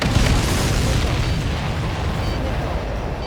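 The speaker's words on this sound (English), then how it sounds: "Everybody, keep a safe distance to avoid getting caught in the explosion." Missile explosion in the video game Ace Combat 7: a loud, sustained roaring blast with broad rumbling noise that slowly tapers off, close and overwhelming, with no clear talk over it.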